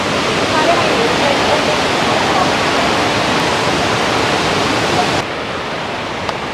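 A waterfall roars close by, a loud, steady wash of rushing water that holds without pause and dips slightly in level near the end.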